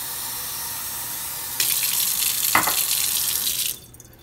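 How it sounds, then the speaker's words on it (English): Faucet water runs into a container for an under-sink reverse osmosis system being sanitized and purged, a steady loud rush that starts abruptly, holds for about two seconds, then cuts off. "I'll go ahead and close this and turn our faucet on"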